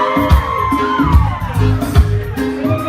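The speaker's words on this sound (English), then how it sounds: "Let me hear you scream." A crowd at an independence ball concert screams, whoops and cheers loudly, with shouting voices and rhythmic thumping music underneath throughout.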